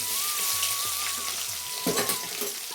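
Finely chopped garlic fries in hot oil for an egg curry, a continuous bright crackling sizzle close by, with a brief stronger burst near the end.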